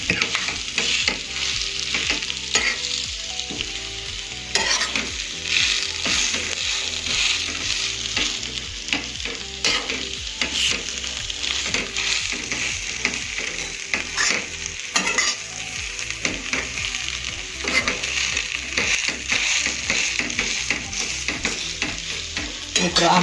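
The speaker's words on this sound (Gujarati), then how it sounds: "સારી રીતે મિક્સ કરી દઈશું આ મસાલાને" Spiced potato filling for aloo paratha stirred and fried in a pan, with a steady close sizzle and repeated spoon scrapes running throughout, no talking.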